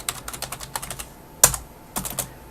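Rapid keystrokes on a computer keyboard come in quick bursts of close clicks, with one sharp louder tap partway through and short pauses between runs.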